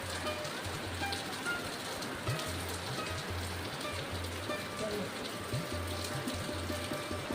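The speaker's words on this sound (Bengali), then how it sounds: "দেখো বৃষ্টি শুরু হয়েছে" Midday rain falls steadily, heard from a balcony as a soft, even wash of drops on surfaces with a low hum beneath and no clear talking.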